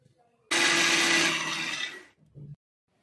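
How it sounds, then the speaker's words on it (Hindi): A mixer grinder grinding coriander whirs loudly for about a second and a half, then winds down, followed by a short low rattle from the jar. "हमने धनिया को भी मिक्सी के जार में डाल दिया है। अब हम इनको पीस लेंगे।"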